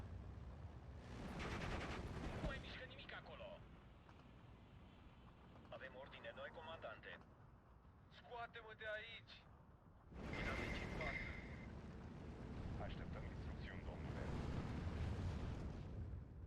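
Aircraft strafing run in the Steel Division 2 wartime strategy game: repeated loud bursts of gunfire and explosions over rumbling battle noise, with the heaviest blasts at the start and again from about ten seconds on.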